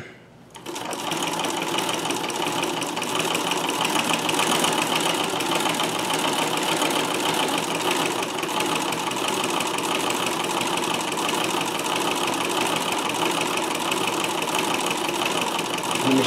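A Davis vertical feed sewing machine stitching pin tucks runs in a continuous, fast mechanical whir with a steady rapid clatter for over fifteen seconds after a short quiet start.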